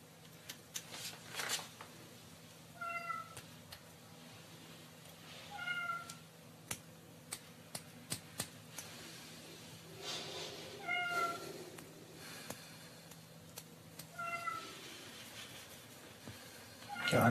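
Indoor cat meowing in a home, several short separate meows spaced a few seconds apart, fairly faint as if from another room, with light household rustling and no talk.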